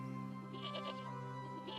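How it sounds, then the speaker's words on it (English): Sheep bleating in distress after falling down somewhere on a farm, a few wavering close bleats over a steady low hum. "One of my sheep has fallen down there"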